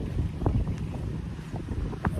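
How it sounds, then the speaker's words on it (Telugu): Strong wind buffets an open outdoor spot, a steady, loud, rough rumble of gusts across the microphone throughout, with no talk. "ఇక్కడైతే ఒక ప్లేస్ లాగిన బాగా చాలా గాలి వస్తుంది"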